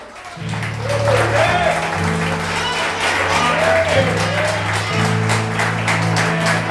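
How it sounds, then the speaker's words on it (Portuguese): Church congregation clapping during an evening restoration campaign service, sustained rhythmic applause mixed with voices and a steady sung or droning tone underneath, loud and close. "E as palmas vão ao Senhor"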